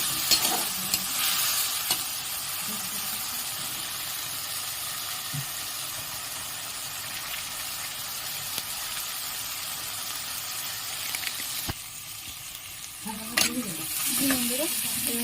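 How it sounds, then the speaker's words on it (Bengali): Fish curry masala with turmeric and chili being sautéed in a pan, a continuous frying sizzle with occasional spoon scrapes and a busier burst of stirring near the end, no talking. "ভালো করে কষিয়ে নেব।"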